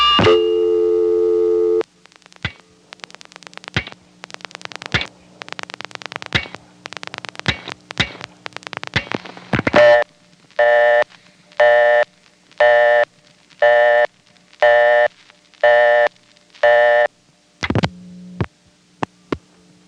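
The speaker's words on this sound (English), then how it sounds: "it was able to give a good busy signal" Busy signal from a Bell #355 step-by-step telephone exchange in Wellfleet, Massachusetts: after a steady tone and a run of clicking selector pulses, an evenly paced on-off tone repeats about eight times, loud and alone.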